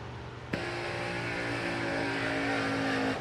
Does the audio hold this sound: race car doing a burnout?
yes